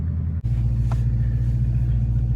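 A car engine idles with a steady low rumble, briefly cutting out before settling back into a loud, even drone close by, with no talking; the other car belongs to the owner of a Dodge Charger, Magnum, Challenger or Chrysler 300.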